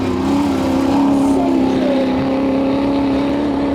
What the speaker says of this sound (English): Just gets that ski jump, that great lump in the middle of the arena, just lands that perfectly.